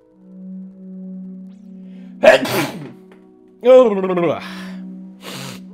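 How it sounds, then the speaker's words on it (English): A single close, sharp sneeze breaks a quiet hum, followed by a breathy gasp and a short voiced exhale. "I'm gonna sneeze."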